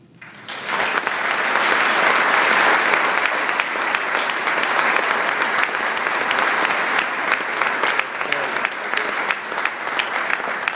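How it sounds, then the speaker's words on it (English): A large crowd applauds steadily for several seconds, a dense wash of clapping that swells quickly and holds without talk. "Let's have another applause for tonight's honoree."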